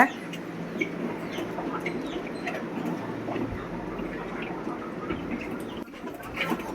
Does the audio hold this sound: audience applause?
no